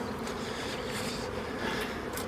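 Bees buzz around an opened Mini Plus hive during an early spring pre-inspection, a steady, close, enveloping hum that carries on without any voices.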